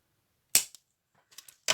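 Scissors cut a small decorated paper envelope at close range, giving a few sharp, crisp snips separated by short pauses, with no talking.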